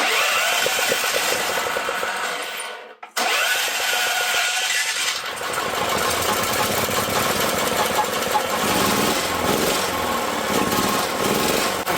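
A repaired portable generator with a formerly seized motor runs steadily and loudly after refueling, a dense buzzing mechanical roar with a brief cut-out near the start before it catches again and keeps going.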